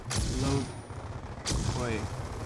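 Gunfire in Black Ops 2 on the Nuketown map, heard as two short loud bursts of shots about a second apart with a ringing tail after each.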